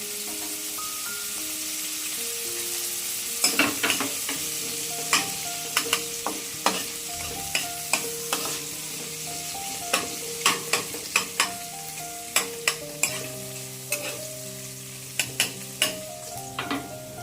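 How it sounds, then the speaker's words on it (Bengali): Ginger and garlic sizzle in hot oil in a pan for an egg tadka, with a constant close frying hiss and frequent sharp metallic clinks and scrapes of a spatula stirring against the pan. "আদা রসুনটা অনেকটা ভাজা হয়ে গেছে,"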